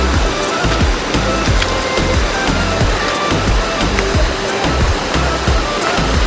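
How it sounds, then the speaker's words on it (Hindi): A cold, shallow river flows steadily nearby, giving a loud, continuous rushing and burbling wash with no speech over it. "तो इस नदी को ना पार करना पड़ेगा"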